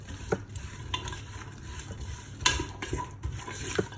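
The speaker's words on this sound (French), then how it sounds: "Je mélange mes pois chiches." Chickpeas being stirred with spices in a pot inside a Cookeo multicooker, a steady scraping and clinking of a spoon against the pot over a soft sizzle, with a few sharper knocks, close and moderately loud.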